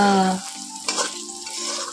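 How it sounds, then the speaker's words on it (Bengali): Potato and onion fritters frying in a pan of oil in a home kitchen, a steady close sizzle with stirring and a brief clatter near the middle, no talk. "এদিকে হচ্ছে তোমার হলো আলু আর পেঁয়াজ কলি ভাজা"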